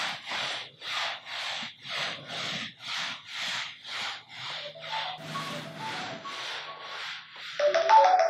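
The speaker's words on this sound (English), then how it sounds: "That's what happens when you forget to put your phone on silent." A mobile phone ringtone at a yoga practice in a London squat, heard as a steady series of evenly spaced bright pulses roughly twice a second, followed by a short melodic chime that swells louder at the end.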